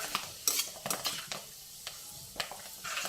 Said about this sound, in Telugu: మొత్తం అంతా డీప్ ఫ్రై అవ్వాలండి